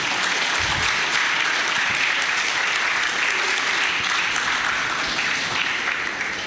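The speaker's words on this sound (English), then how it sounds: "Please give him a round of applause again." Audience applause in a university hall during an entrepreneurship lecture event, steady dense clapping filling the whole stretch at full, even loudness.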